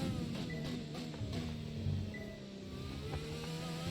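Simulated Formula 1 race car from the F1 2020 game accelerating hard at the Brazil circuit, a steady engine drone with shifting pitch bands running continuously, fairly close and moderately loud with no voices.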